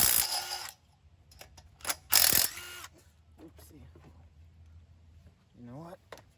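A ratchet with a deep socket works on a rusty Homelite Subaru-powered pressure washer engine, giving several short bursts of clicking and ratcheting, close and fairly loud, with pauses and brief speech between them.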